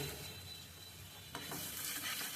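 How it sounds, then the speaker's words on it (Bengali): Spice paste frying in oil on low heat in a home kitchen, a steady soft sizzle with a brief stirring scrape partway through, faint and close, no talk. "চুলার আঁচটা কমিয়ে দিলাম, এবার মশলাটা কষিয়ে নিচ্ছি, তেলটা ছেড়ে আসো।"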